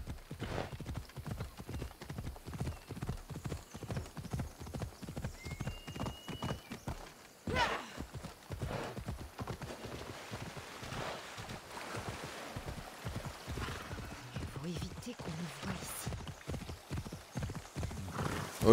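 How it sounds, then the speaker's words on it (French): A horse's hooves clip-clop in a steady rapid trot in the video game Assassin's Creed Odyssey, close and continuous with a brief pause midway, over soft wind. "C'est quoi ce cheval de merde?"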